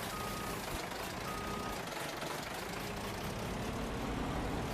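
Steady electronic reversing beeps from a truck in Farming Simulator 19, repeating over a continuous engine drone, with no talking.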